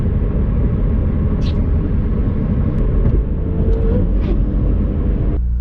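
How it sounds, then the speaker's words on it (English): A 2019 McLaren 720s cruises steadily on the road at highway speed, a loud, constant low rumble of engine and road noise heard from inside the car, with no speech. "me test driving my 2019 McLaren 720s"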